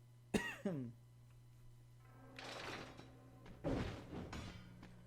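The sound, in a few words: coughing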